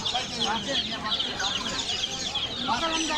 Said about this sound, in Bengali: অনেকগুলো তিতির মুরগি রয়েছে এখানে।